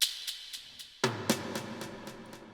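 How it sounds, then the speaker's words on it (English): FL Studio drum samples for an Afro house beat: a crisp shaker ticks in a steady pulse, then a second snare enters with a punchy hit, and the shaker pattern keeps ticking over a fuller backing. "I have a shaker and another snare that's close here at the 8th bar"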